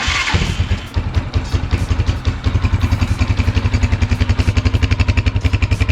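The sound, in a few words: motorcycle electric starter starting engine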